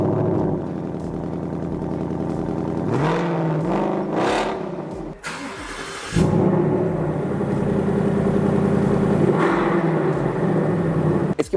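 Ford Mustang GT 5.0 V8 from 2018, a convertible, idling quietly, then firing up with a couple of sharp revs, a brief drop, and settling into a loud deep rumble with another rev later, close and without talk.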